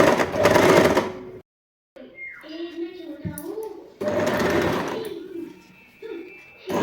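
A sewing machine stitching the side seams of a party wear dress made from a saree, with whirring bursts of stitching separated by short pauses as someone talks and explains the work.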